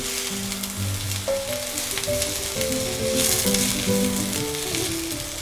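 Onions slowly sautéing in a pan for beef birria give a steady, soft sizzle throughout, with some faint tonal sounds in the background.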